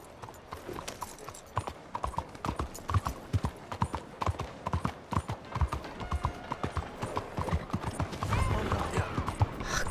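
A horse gallops in Red Dead Redemption 2, fast, dense hoofbeats pounding close and loud, with tack jingling and a brief rise in noise near the end.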